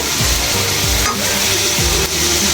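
Jackfruit seeds stir-fried in a pan give a loud, steady sizzle, broken by a few scraping stirs of a spatula, close up with no talking.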